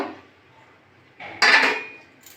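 Boiled taro flowers are lifted out of a cooking pot, giving a sudden close metallic clatter of utensil against pot that fades over about a second, after a quiet stretch.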